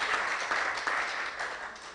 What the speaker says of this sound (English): Please give a round of applause for those